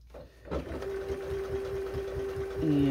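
A home sewing machine quilting a small scrap mini quilt runs steadily after starting up, its needle thumping in a quick regular rhythm beneath a steady whirring motor hum.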